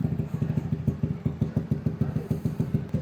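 A Yamaha Aerox scooter fitted with a big exhaust idles up close, giving off a steady, rapid, even thumping throb with a slight clatter and no talk.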